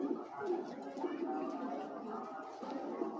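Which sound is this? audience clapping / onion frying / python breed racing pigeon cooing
python breed racing pigeon cooing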